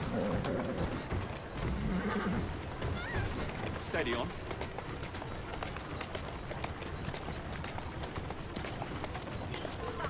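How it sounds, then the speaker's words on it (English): Hooves pound in a fast, continuous gallop in a video game, with a horse whinnying partway through and someone speaking briefly over the noise. "Who's a good horse?"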